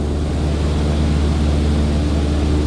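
A single-engine propeller airplane in Microsoft Flight Simulator holds a loud, steady engine drone at cruise power with no break, and nobody speaks over it.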